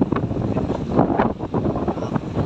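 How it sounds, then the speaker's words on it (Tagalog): Strong wind buffeting a microphone outdoors under a bridge just after rain, a loud gusting roar that rises and falls throughout without any talking. "Masyadong mahangin."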